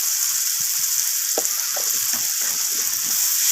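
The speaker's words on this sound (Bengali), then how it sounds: "সমস্ত কিছু মশলাকে আমি কষিয়ে নিচ্ছি ভালো করে, যতক্ষণ না মশলা থেকে তেল ছেড়ে আসছে।" Turmeric, red chilli and cumin powders frying in oil in a pan, a dense continuous hiss with scattered soft scraping from stirring, close and steady without any voices.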